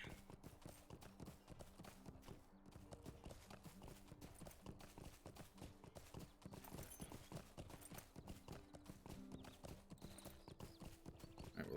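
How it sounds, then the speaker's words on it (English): Horse hooves clip-clop steadily and evenly while riding in the Lord of the Rings Online game, a continuous quick rhythm at moderate loudness with no talk over it. "It's more like I ride like"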